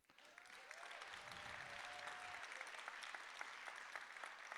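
Audience applause at the Músíktilraunir music competition, a sustained dense clapping from a full room that holds steady for several seconds, with a faint held tone sounding briefly early on.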